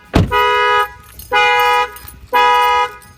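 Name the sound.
Toyota Sienna minivan car alarm sounding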